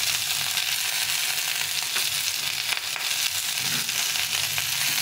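Cauliflower stalks fry with salt and turmeric in a pan, producing a loud, even hiss of sizzling oil with faint scraping underneath, steady throughout at close range and free of speech.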